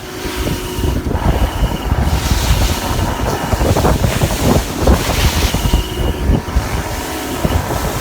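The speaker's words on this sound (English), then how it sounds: "this breeze should help. We got some good wind." Strong wind roars and buffets the microphone on a fishing boat out on the water for walleye, with wave wash and constant gusty rumble and no talking.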